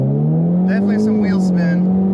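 Car launching hard from a standstill using brake boost on over-inflated tires, its engine note rising steadily and loud, with some wheel spin, while a person talks over it.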